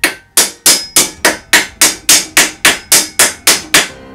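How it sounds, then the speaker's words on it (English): A small ball peen hammer strikes steel helmet pieces in a steady series of about thirteen loud, ringing metallic blows, evenly spaced and close, each decaying quickly before the next. "I am using a small ball peen hammer."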